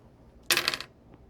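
Plastic X-Wing miniatures dice clatter across a tabletop in a single quick roll, a short bright rattle of several dice settling, alone in a quiet room.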